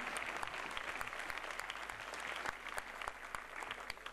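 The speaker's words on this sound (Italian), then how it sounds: "Applausi, applausi." Audience applause after a Christmas concert by a high school orchestra, a steady full room of clapping hands, moderately loud and even throughout.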